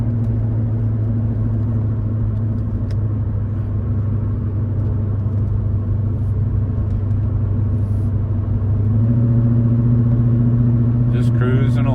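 A Callaway SuperNatural Chevrolet Impala SS cruising along, a steady low rumbling engine drone heard from inside, swelling slightly near the end.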